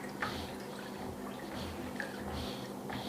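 A liquid marinade is swished around a bowl in repeated soft sloshing strokes, close and fairly quiet, over a faint steady hum.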